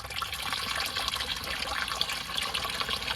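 Water instead of oil pours steadily out of a Maruti Eeco gearbox during a major service, a constant close gushing trickle with no voices.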